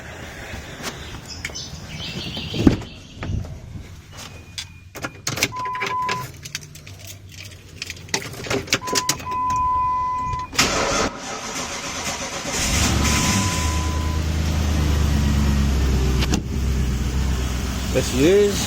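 Jeep Grand Cherokee WJ with an exhaust leak cranks and fires up, then settles into a steady, loud rough idle after scattered handling noises, with brief talk early on.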